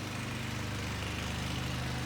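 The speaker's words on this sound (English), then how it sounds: "sorry for the noise the neighbors mowing." A neighbor's lawn mower runs steadily and loudly nearby, its engine drone and low rumble continuous throughout with no talking over it.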